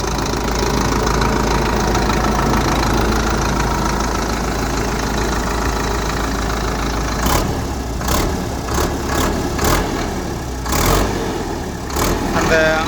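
A Sonalika DI 60 tractor's diesel engine runs at a loud, steady rumble close by, then turns to a series of sharp knocking bursts as the throttle is blipped repeatedly. No one speaks over it.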